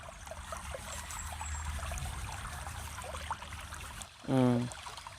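A soft, steady trickle of river water flows throughout, and a short burst of splashing or pouring sounds near the end as someone bathes.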